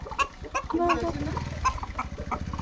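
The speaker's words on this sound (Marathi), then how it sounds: "कोंबड्या बघ कोंबड्या आपल्या कोंबड्या कुठे गेल्या रे ते बघ" Chickens cluck nearby in short, irregular bursts while people talk over them outdoors.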